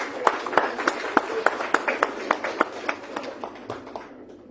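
Conference audience at IMS Ghaziabad clapping for the dignitaries on the dais, a loud run of sharp, evenly spaced claps that thins out toward the end.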